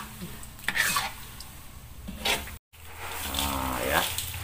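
Dry-fried potato strips are tossed into spice seasoning in a pan, giving scraping, rustling stirring strokes in bursts with a soft sizzle, close and moderately quiet, broken by a brief silent gap.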